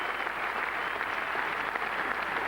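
A big cricket crowd applauds Graham Gooch reaching fifty in the 1991 England versus West Indies test, giving a sustained, even patter of clapping from a distance.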